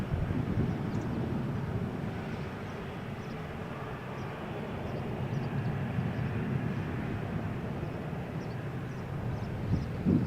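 A Transavia airliner takes off from Malaga Airport on a stormy morning, a steady, broad engine roar heard from a distance with wind buffeting the microphone throughout.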